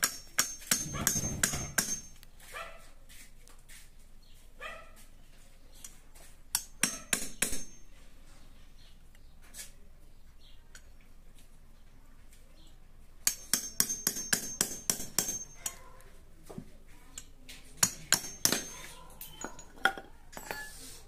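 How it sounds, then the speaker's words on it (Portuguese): A hammer strikes metal while someone works to remove an oil seal, apparently on a motorcycle. Sharp metallic hits come in irregular bursts of rapid blows, then pauses and scattered single knocks, fairly close and ringing. "Pega o martelo, por favor."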